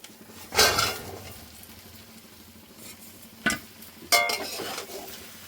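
Chicken curry with potatoes and spices being stirred in a pan, three distinct scraping, clinking stirs of a spoon against the metal pan, separated by quiet sizzling, with no voices.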